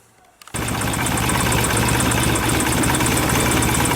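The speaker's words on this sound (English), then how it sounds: "we'll set it up and get the bike started so you can have a look at the sync and the timing" A motorcycle fitted with points ignition fires up and settles into a steady, loud, close idle with an even running rhythm throughout.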